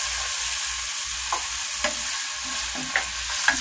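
Mushrooms sautéing in olive oil with finely chopped garlic, a steady bright sizzle with a few soft stirring scrapes and taps, close and continuous, no voices.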